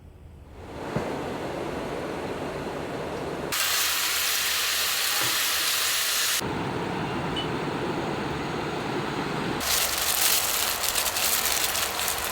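Meat steaming in a pot on a camper-van stove, a steady broadband hiss that swells louder for a few seconds, eases, then surges again, with no voices.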